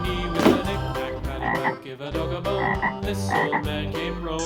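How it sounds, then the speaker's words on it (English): A toy frog sound plays as a loud, continuous run of croaks with strong rhythmic pulses, alone with no talking, from a collection of animal toy sounds. "Frog."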